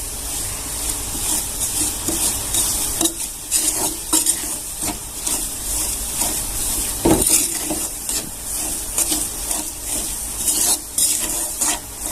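Powdered sugar is stirred into a sweet mixture for modak in a bowl, making steady rubbing, scraping strokes with irregular rhythm, close and fairly loud, with no talk.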